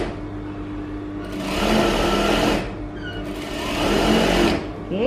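Sewing machine stitching a fabric hem, two bursts of rapid mechanical whirring, each about one and a half seconds long, close and fairly loud with a brief pause between them.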